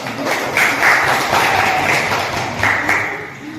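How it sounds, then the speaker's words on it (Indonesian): Classroom applause for a presenting student group: a burst of brisk, fairly loud clapping from several people that stays dense and continuous throughout, close by. "Kasih aplaus untuk kelompok 2"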